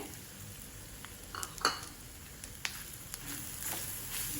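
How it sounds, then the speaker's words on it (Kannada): Grated coconut roasting in a pan over a low flame for sambar, stirred now and then: a faint, steady sizzle with a few soft scrapes and taps of the spoon against the pan. "ತೆಂಗಿನಕಾಯಿ ತುರಿಯನ್ನು ಹಾಕ್ಕೊಂಡು ಸಣ್ಣ ಉರಿಯಲ್ಲಿ ಇದನ್ನು ಚೆನ್ನಾಗಿ ಹುರ್ಕೊಳ್ಬೇಕು"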